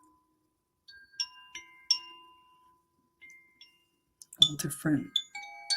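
A small hand bell with little metal prongs inside is shaken, giving several bright, ringing chimes that sustain and fade, then a brief spoken voice overlaps a final cluster of tinkling rings.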